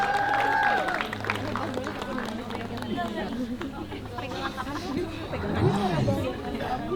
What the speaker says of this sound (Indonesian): Boleh kita beri tepuk tangan Bapak Ibu sekalian?